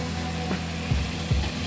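Chopped onions and capsicum sizzle in a hot pan while okra curry cooks, giving a steady frying hiss with two short stirring scrapes near the end.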